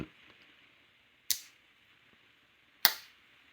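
A titanium slipjoint pocket knife with an M390 clip-point blade snapping open and shut, two crisp sharp clicks over a second apart, close and quiet otherwise.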